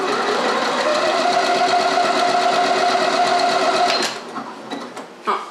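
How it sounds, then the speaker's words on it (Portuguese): A Janome 1030MX sewing machine stitches a buttonhole, its motor and needle running in a steady rapid whir for about four seconds before stopping, followed by a few soft clicks and handling sounds. "Então agora eu vou continuar a minha costura até a agulha chegar no meu segundo traço, indicando que é o fim"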